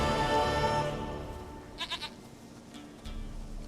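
Goat in The Witcher 3: Wild Hunt bleats in a short wavering burst, a few quick pulses standing out clearly after fading game ambience, with no talk.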